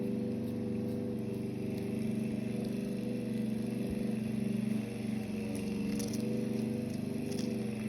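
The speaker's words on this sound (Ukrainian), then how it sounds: "там газон косять на дворі гуде, гуде як трактор" Lawn mower mowing grass in a yard, heard from indoors as a steady low engine hum that drones evenly throughout at moderate distance, with no talk over it.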